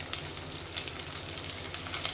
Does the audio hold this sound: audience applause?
no